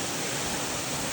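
Water pours down a waterfall in a loud, steady, broadband rush that fills the whole short moment, close and unbroken, with no voices.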